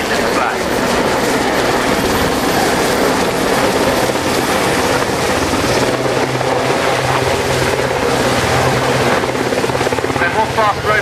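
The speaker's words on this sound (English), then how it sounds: "one of the Sea Kings flying in the display today is a Falklands veteran" Sea King helicopter, a Falklands veteran, flying in an air day display at Yeovilton, with loud, continuous rotor thudding and engine roar heard up close, and a commentator talking over it.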